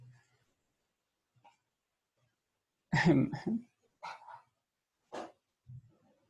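A dog barks several times in short, separate bursts with quiet gaps between them, nearby and fairly loud, during an online tutoring session.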